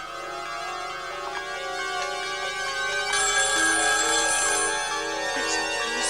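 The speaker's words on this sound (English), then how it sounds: "The phone. Let it ring." A telephone rings with a bright, electronic trilling tone that repeats steadily and grows louder partway through, sounding alone in a quiet room with no voices.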